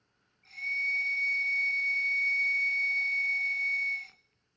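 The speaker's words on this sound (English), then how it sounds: "we blow the whistle basically to ask our ancestors to come and see what we're doing" A ceremonial whistle blown at a Treaty Number 1 gathering at Roseau River, one steady, piercing high tone held for about three and a half seconds and then cut off, loud and alone with no talking.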